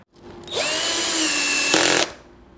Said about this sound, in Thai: เดี๋ยวเรายิงเกียร์ปล่อยมันก็จะดูดเข้ามานะครับ